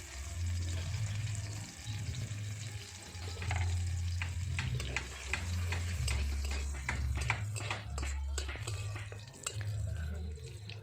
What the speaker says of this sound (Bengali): কড়াইতে আর একটু তেল দিলাম, দিয়ে দিলাম কালো জিরা ফোড়ন এবং থেতো করে রাখা রসুন।